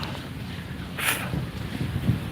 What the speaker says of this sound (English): it's windy out here in Miami